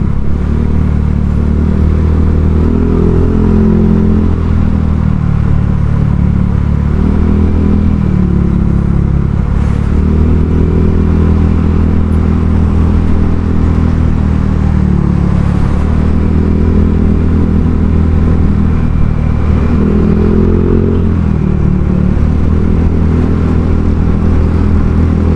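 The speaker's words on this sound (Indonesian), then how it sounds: "Tapi ini kenapa untuk knalpotnya sendiri itu agak sedikit meledak-meledaknya." A Honda Vario 150 scooter fitted with a Kenziro aftermarket exhaust, heard while riding: a loud, steady low engine drone with periodic throttle swells and clattering exhaust crackle, continuous and close throughout with no talking.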